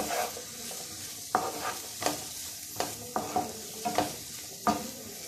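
Green chillies fry in a pan with mango pieces for a Kolhapuri mirchi thecha chutney, a steady sizzle broken by about seven sharp scraping stirs of a spoon against the pan, close and with no talking.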